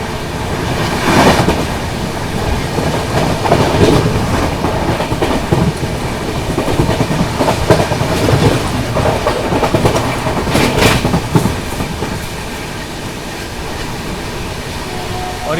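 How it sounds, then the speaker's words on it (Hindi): A Duronto Express train rushes through Nagda Junction at high speed, a loud continuous rumble with clattering wheel rhythm and rising, falling surges as the coaches roar past. "क्या गजब की रफ्तार में स्किप किया है अपनी दुरंतो एक्सप्रेस ने नागदा जंक्शन को।"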